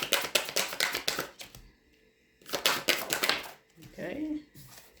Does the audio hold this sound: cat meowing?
no